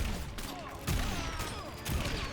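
Gunfire from the Joker in the fighting video game Injustice 2: a couple of sharp, bursty shots inside a busy game mix, loud and close.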